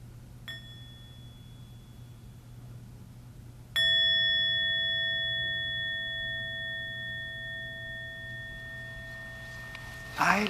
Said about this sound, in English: You allow the sound of bell to penetrate into your body